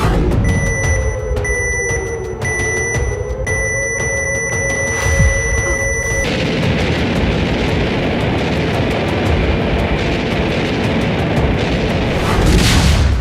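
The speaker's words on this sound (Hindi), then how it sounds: "क्या ऐसा ही विध्वंसक धमाका होने वाला है?" A steady tonal hum gives way to a loud, rumbling explosion roar that fills the rest of the clip, with no voices.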